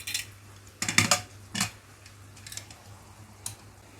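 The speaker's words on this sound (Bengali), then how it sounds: "এবার ঢাকনাটাকে লাগিয়ে দেব" A lid is fitted onto a pressure cooker in a kitchen, giving a few close, sharp metallic clicks and clanks in quick bursts over a faint steady hum, with no talking.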